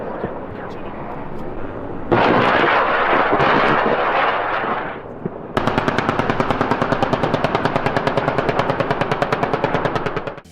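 An AH-1Z Viper attack helicopter fires its 20mm cannon in rapid bursts. A loud roaring burst is followed by a long, steady, evenly pulsing stream of shots over a constant background drone.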